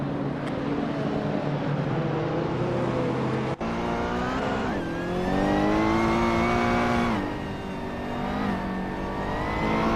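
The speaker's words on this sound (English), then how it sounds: "Laura Beolab is driving a Ferrari 288" A Ferrari 288 GTO Evoluzione race car in a racing video game roars loud and close, its engine pitch climbing and dropping through gear changes with a brief cut partway through, and no one talks over it.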